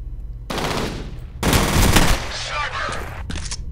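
Automatic weapon fire in the first-person shooter F.E.A.R., loud rattling bursts in two main volleys with brief gaps, ending in a short final burst.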